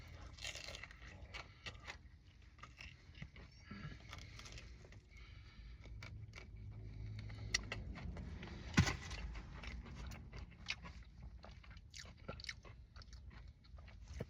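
Someone bites into Popeyes ghost pepper fried chicken up close, with repeated crunching bites and wet chewing scattered across a quiet room, one sharp crackle standing out midway.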